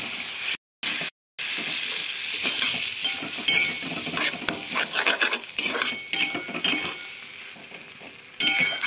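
Spiced paste of red chilli powder, cumin powder, turmeric and salt poured into a hot pan for Bengali egg curry, sizzling steadily up close with scattered clinks of a utensil against the metal pan and brief silent gaps at the start.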